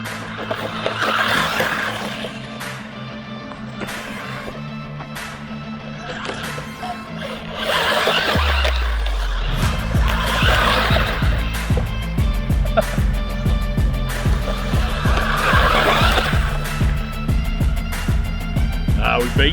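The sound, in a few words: 1/16 SG1610 PINECONE RC drift truck driving and drifting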